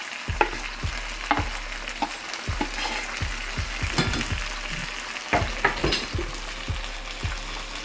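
Beans and a half onion sizzle and fry in a hot skillet for refried beans, a steady crackle broken by repeated clanks and scrapes of stirring, close and moderately loud.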